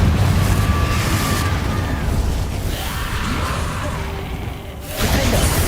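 Confringo blasting curse explosion in the Hogwarts Legacy video game, a loud, dense rumbling blast with whooshing debris that swells again near the end.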